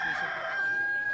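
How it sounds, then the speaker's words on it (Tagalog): Texas gamefowl rooster crows once nearby, a drawn-out strained call that rises and holds before fading, with farmyard ambience behind it. "Manok po yan, mga Texas."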